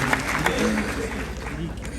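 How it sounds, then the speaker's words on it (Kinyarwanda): An audience at a concert applauds for a performer named Richard, producing a steady wash of clapping with scattered louder claps and murmuring voices mixed in. "Mureke tumukomere amashyi Richard"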